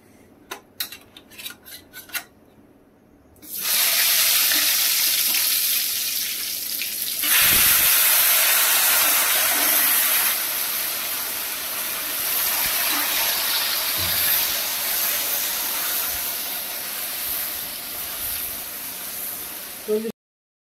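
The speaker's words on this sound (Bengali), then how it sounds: "মাংস টকবক করে ফুটছে" A few light metallic clinks of a ladle give way to a loud, steady bubbling hiss as meat curry boils vigorously in a pot, close and continuous to the end.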